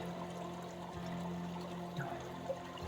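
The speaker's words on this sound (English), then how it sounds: "I'll fill my water bottle up at this creek" Water trickling and gurgling as a bottle is filled in a creek along a hiking trail, a steady close pouring flow with a faint low hum beneath, no talking.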